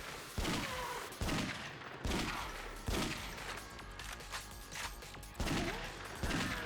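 Rapid bursts of gunfire from the Yakuza Dead Souls video game, loud volleys repeating roughly every second or so with sharp attacks and dense, continuous firing throughout.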